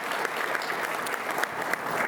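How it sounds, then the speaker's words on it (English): Applause from a press-conference audience welcoming Van Malone as the new Hampton football coach, a steady dense clapping that holds at even loudness throughout with no voices over it. "One more round of applause for Van, please."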